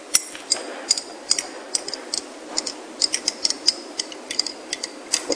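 A spoon stirring chlorella in a glass flask gives rapid, bright clinks and ticks against the glass, irregular but steady over several seconds, close and fairly loud with no talking.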